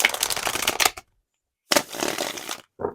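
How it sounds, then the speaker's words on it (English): Tarot cards shuffled by hand in two riffling bursts of crisp papery flutter, separated by a short silence and ending with a brief final tap, close and fairly loud. "that shuffling felt really nice"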